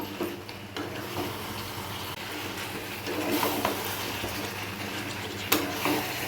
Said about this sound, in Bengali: এখন এই ভেজে রাখা আলুগুলো সব দিয়ে দেবো। দিয়ে একটু নেড়ে চেড়ে নেব।